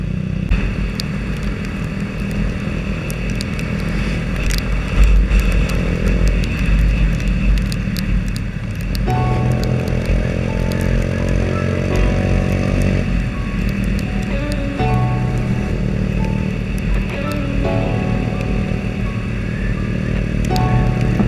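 Motorcycle engine on a highway road trip through Karnataka's jungle roads, a loud continuous drone with wind rush, shifting pitch partway through as the rider changes speed.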